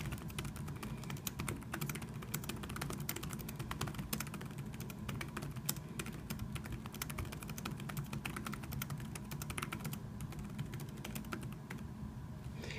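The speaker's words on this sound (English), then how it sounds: "I'm going to type out some words here." Rapid typing on a Zagg Keys Folio keyboard for an iPad Air, a close, continuous stream of crisp plastic key clicks in uneven bursts for several seconds, with no talking.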